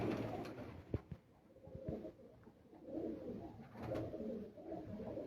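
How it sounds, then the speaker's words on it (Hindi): Soft, low pigeon cooing rises and falls in a few murmuring phrases, with faint background noise between them and no talking. "तो उस्ताद मुश्ताक जो है ना, जो उसके हाथ में कबूतर है जी, वो अपने शौक वाला कबूतर दिखा रहे हैं।"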